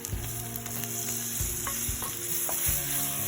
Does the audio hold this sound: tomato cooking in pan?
yes